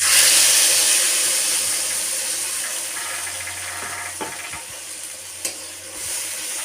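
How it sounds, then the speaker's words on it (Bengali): A mustard and poppy seed paste sizzles loudly as it hits hot oil in a wok, a steady hiss that slowly eases, with a few clinks of a utensil stirring near the end. "আমি আবারও কড়াইতে একটু তেল দিয়ে এবার বাটনাটা এতে দিয়ে দেবো"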